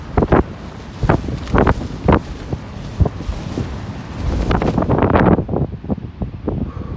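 Strong gusting wind from the tail of a hurricane buffets a campsite on the Isle of Mull, roaring and rumbling into the microphone in loud surges with brief lulls, no voices heard.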